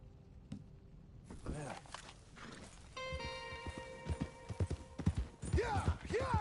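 Hooves of horses walking in Red Dead Redemption 2, a steady clip-clop over a ground of ambient game sound, with a sustained musical tone entering midway and short bursts of voice woven through.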